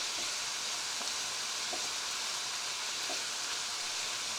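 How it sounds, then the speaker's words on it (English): Thin chicken strips for Hakka noodles stir fry in a hot pan, giving a loud, continuous close sizzle with a few faint scrapes of a utensil and no talk. "Just stir fry it carefully"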